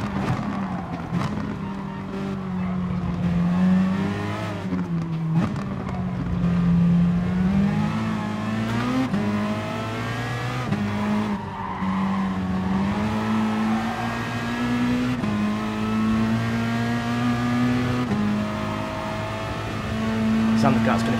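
Peugeot RCZ race car engine in the GT Sport racing game, a steady loud drone with gently rising and falling pitch across a long stint, with a voice talking over it throughout.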